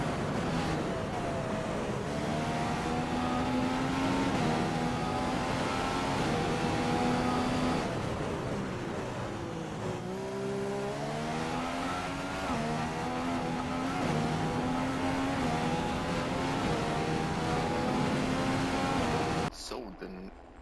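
A 2016 McLaren Formula 1 car in a racing video game, its high engine note rising and falling through gear changes as it laps, loud and continuous before cutting off abruptly near the end.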